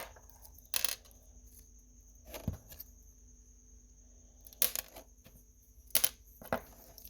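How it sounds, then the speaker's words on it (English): Small plastic bits snipped off a lowrider scale model, a handful of sharp isolated clicks and snips spaced out over a quiet background, close and faint. "See there, I'll cut those off anyway."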